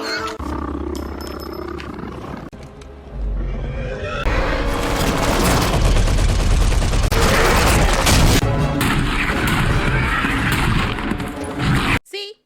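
Gunfire aimed at a velociraptor in Jurassic World: Fallen Kingdom, with loud booming shots mixed into roaring, a dense film soundtrack and voices, ending in an abrupt cut.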